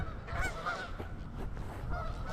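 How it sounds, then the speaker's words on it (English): Geese honk repeatedly in a noisy flurry, several birds calling at once as they lift off, fairly close and loud throughout. "all those geese just took off."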